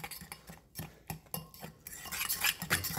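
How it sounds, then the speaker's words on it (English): A fork stirring microwave-cooked grits in a bowl, repeated soft clinks and scrapes of metal against the dish in an uneven rhythm, close and fairly quiet, growing busier toward the end. "Stir them up with my fork."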